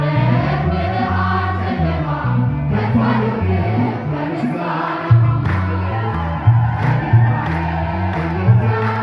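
A church worship crowd ululating and cheering, loud and continuous with rising bursts of shrill trilling voices over a steady murmur, several sharp peaks toward the end.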